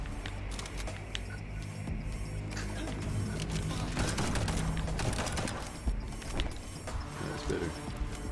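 Gunfire in the video game Liberated crackles in sharp bursts alongside mechanical game noises and music, fairly close, with someone talking over the action.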